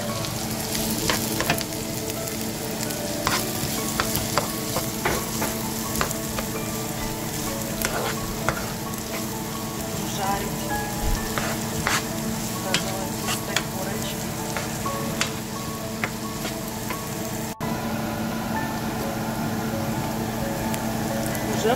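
Onion and garlic fry in hot oil, giving a steady close crackling sizzle with occasional stirring pops that runs throughout under a voice speaking.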